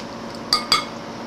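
Two quick metallic clinks of a utensil against a bowl while an egg is beaten into stuffed-mushroom filling, close and crisp over quiet room tone.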